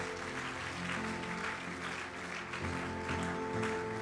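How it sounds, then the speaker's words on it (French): Congregation clapping during a church service, a steady dense wash of applause running throughout, with music tones sustained underneath. "Acclame pour le Seigneur bien-aimé."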